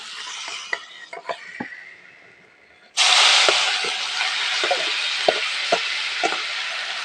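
Marinated raw shrimp dropped into hot mustard oil for a lemon-leaf shrimp curry bursts into a loud, steady sizzle that starts abruptly partway through and continues, following quieter stirring and scattered clicks.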